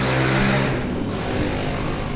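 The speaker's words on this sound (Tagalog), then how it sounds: "Ito yung makina niya." Steady, loud idle of a new 2026 Honda TMX Supremo motorcycle engine, close up, with a continuous buzzing drone that dips briefly midway and then holds even.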